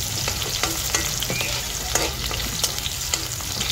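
Onions frying in a hot pan for a broccoli and beef dish, making a loud, constant sizzle broken by repeated scraping stirs at a steady pace.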